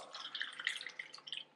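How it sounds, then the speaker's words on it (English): Water poured from a cup into an Instant Pot holding rinsed white rice, a brief trickling splash with bright gurgling spatters, quiet and close, with no speech. "I'm gonna add around 2 cups of water."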